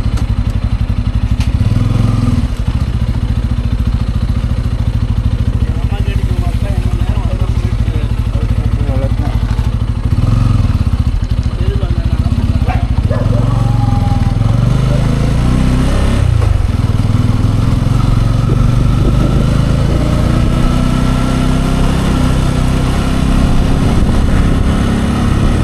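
A Pulsar N250 motorcycle engine drones loudly and steadily throughout a ride on the road, with wind rush, rising and falling revs, and a voice speaking faintly beneath the noise.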